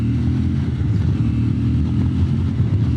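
A new CFMOTO 450MT (Ibex 450) motorcycle in its break-in period revs and accelerates under a rider, a loud, steady low engine drone close by for about three seconds with no talk.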